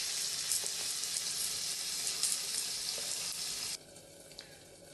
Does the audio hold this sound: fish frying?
yes